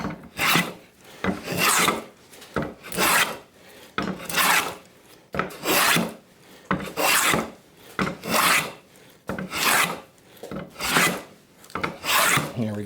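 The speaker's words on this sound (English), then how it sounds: "Now it's planing easier because the geometry is downhill and it's angling closer to parallel to the grain" A hand plane shaves wood while a tapered octagonal table leg is shaped, giving a steady series of about ten rasping strokes, each a second or so long, close and clear with short pauses between.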